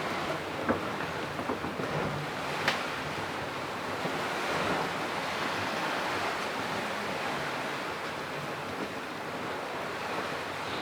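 Steady wind and broad surf rush around a sailboat crossing the Indian Ocean at seven to eight knots, a continuous loud wash with occasional sharper splashes and wind buffeting the microphone.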